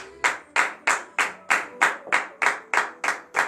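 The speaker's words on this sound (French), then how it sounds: "Donnez l'acclamation à notre Seigneur Jésus." A congregation at morning prayer claps in unison, ten loud sharp claps in a steady even rhythm with nothing else heard between them.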